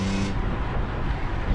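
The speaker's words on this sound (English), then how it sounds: "What a wonderful car this is" A BMW M3 E46 drives through a turn with a steady engine drone and road noise, close and moderately loud, no voices over it.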